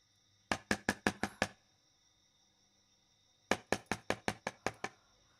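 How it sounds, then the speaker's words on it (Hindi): Knuckles rap on a door in a Hindi action film scene: two quick runs of about six sharp, evenly spaced knocks, separated by a pause, loud and close against a quiet room. "ए माया, दरवाजा खोलना।"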